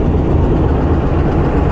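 A train locomotive engine at a station, with a second engine being coupled, gives a loud, steady low diesel rumble throughout, with no distinct clank heard.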